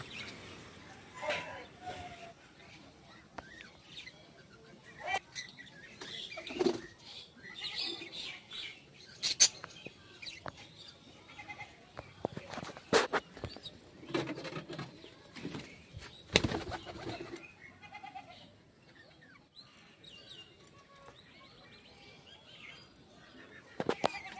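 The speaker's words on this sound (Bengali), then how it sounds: "তো পায়রার ভিডিও নিয়ে চলে এলাম" Pet pigeons coo softly with occasional chirps and bursts of wing flapping, heard intermittently against a quiet background, with sharp rustles and knocks scattered throughout.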